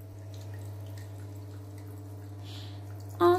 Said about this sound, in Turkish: suyu biraz az akıyor